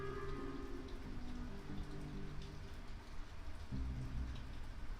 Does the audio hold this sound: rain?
yes